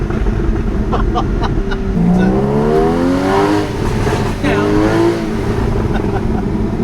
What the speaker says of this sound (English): That can't be a Porsche exhaust.